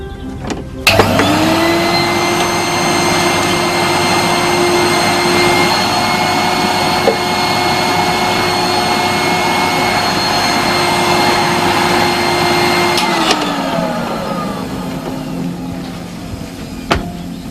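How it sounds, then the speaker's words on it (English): A vacuum cleaner switches on and runs with a loud, steady whining drone close by for about twelve seconds, then powers down and winds off, with no talking over it. "I have to hoover."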